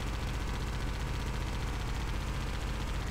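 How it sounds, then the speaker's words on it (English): In Halo: Combat Evolved, a weapon fires without pause while the trigger is held down, producing an even, unbroken stream of rapid shots at a moderate, constant level with no speech. "So I'm gonna be hearing gunfire noises for the next 3 years."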